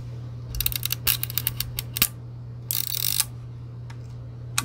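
Film advance lever being wound on an old film camera, a close series of quick ratcheting clicks followed by a short rougher mechanical burst and a final click, with a faint steady hum underneath.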